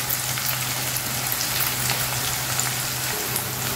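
Onions frying in oil for gongura chutney give a loud, steady, close sizzle with fine crackling spatter, continuous and with no one talking.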